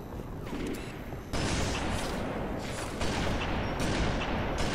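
Loud, dense gunfire from Halo 3 comes in overlapping bursts and sustained volleys during a 2v2 match, with the barrage intensifying partway through.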